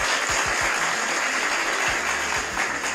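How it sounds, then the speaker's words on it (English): Steady applause from a small group fills the stretch, a continuous wash of hand claps at even loudness with a few low thumps underneath, no voices. "Clap it up for Noxious, for Jazz"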